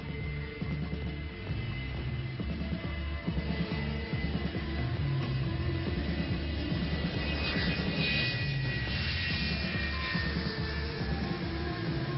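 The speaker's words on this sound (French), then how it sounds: "Alconbury abrite des escadrilles de reconnaissance aérienne équipées d'avions fantômes." A Phantom reconnaissance jet flying near Alconbury airbase gives a loud, sustained engine roar with a whining tonal edge, steady throughout without any speech.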